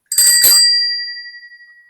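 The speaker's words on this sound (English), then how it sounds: "And that doorbell rang again." A bright doorbell chime with two quick strikes followed by a long ringing, slowly decaying tone, loud and close, no voices.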